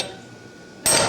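A human striker's hammer hits hot steel on a blacksmith's anvil at a smithing conference: one sharp, loud metallic blow near the end, after a quiet stretch.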